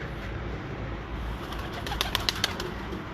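Breeder pigeons coo softly in the background amid a constant low hum, with a few brief sharp sounds near the end.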